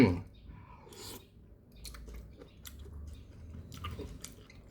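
Close, wet chewing of squid tom yum with Isan herbs, soft squelchy bites repeating irregularly at low volume with faint background noise and no speech.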